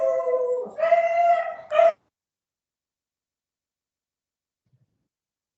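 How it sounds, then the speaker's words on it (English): Beagles let out a short, tonal howl, a few wavering drawn-out notes close by that lasts about two seconds and then stops abruptly, followed by near silence and a brief click. "I have two beagles."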